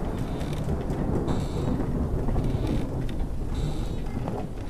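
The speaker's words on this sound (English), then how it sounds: "stupid storm" Thunderstorm in the horror video game I'm Counting To 6, a continuous low roar of rumbling thunder and rain, steady and fairly loud throughout with no talk.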